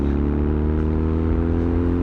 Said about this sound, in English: I could listen to that exhaust all day.